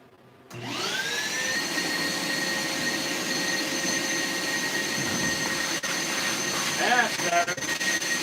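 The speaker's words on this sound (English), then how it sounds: "All right, the vacuum sound." A vacuum cleaner switches on and runs steadily with a loud whine and rushing airflow, its pitch rising as it spins up and later warbling briefly as the suction load changes.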